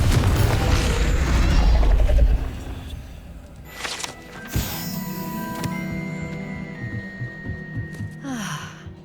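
Confringo explosion spell in Hogwarts Legacy: a single sharp blast hits midway, followed by a ringing, rumbling tail that fades over a few seconds, with a softer whoosh just before it and faint clinks afterward.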